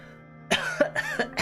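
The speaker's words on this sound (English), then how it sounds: "See, I'm doing the coughs as well." A man performs a string of staged coughs while voicing a character in the political strategy game Suzerain: a quiet lead-in, then four or five close, throaty coughs in quick, uneven succession.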